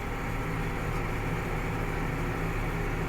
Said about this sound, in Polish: słychać też po silniku, że że mu idzie ciężej ta jazda